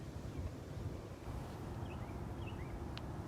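Strong wind buffeting a microphone outdoors beside horse paddocks on a nursery farm, a steady loud low rumble with faint bird chirps in the distance.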